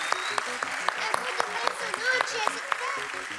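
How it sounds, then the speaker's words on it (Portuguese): Studio audience applause on a Brazilian Sunday TV variety show, a steady wash of clapping with sharp individual claps standing out, while voices carry over it. "O Domingão aplaude de pé"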